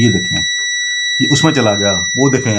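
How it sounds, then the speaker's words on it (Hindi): A steady, high-pitched continuous beep from an LME22 burner controller test circuit sounds through the whole stretch while someone talks over it nearby. "बीप सुनाई दे रही होगी"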